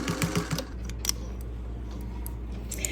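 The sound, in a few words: 1949 Singer 201 sewing machine stitching a seam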